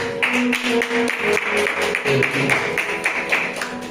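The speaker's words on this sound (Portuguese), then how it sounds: "Dá uma salva de palmas para Jesus" A church congregation applauds for Jesus during an Assembly of God service, a steady wash of many hands clapping close by and fairly loud, with voices and singing faintly mixed in underneath.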